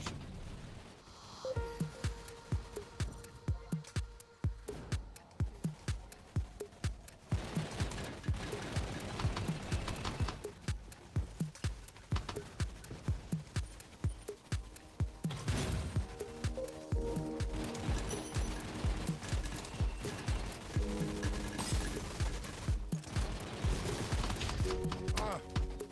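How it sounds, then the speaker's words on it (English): Rapid gunfire bursts in a video game, repeated sharp cracks in fast volleys across the whole stretch with a few brief pauses, mixed with game sounds and a voice talking at times. "Bullets everywhere."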